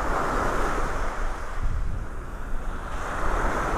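Ocean surf rolls steadily onto Vanderbilt Beach in North Naples, Florida, on a humid morning, a continuous loud wash of breaking waves mixed with breeze and wind buffeting across the microphone, with no voices.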